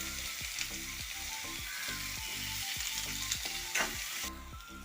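Small onions (shallots) frying in hot oil in a pan for sardine thoran, a loud, steady close sizzle with rhythmic scraping stirs every half second or so, no voices.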